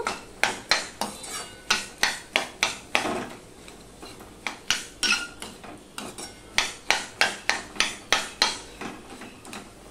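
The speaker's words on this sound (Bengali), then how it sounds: "পুরো হাতা দিয়ে আমি এভাবে পেস্ট করে নেব যতটা পারি" A ladle strikes repeatedly against a cooking pan while mashing pumpkin curry into a paste, giving sharp metallic knocks in quick irregular bursts, close and fairly clear.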